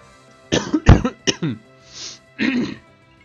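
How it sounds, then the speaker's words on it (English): Several harsh coughs and throat-clearing bursts from one person, close to the microphone, in quick irregular succession with a short breathy pause before a final cough. "I do apologize for the coughing"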